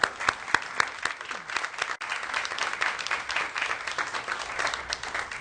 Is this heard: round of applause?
yes